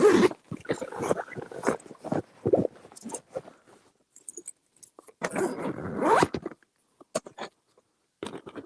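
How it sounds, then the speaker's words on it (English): A zipper closes a pocket on a sewn tote bag in several close, rasping pulls, interspersed with rustling fabric and handling scrapes, with quiet gaps between. "Zip up my pocket."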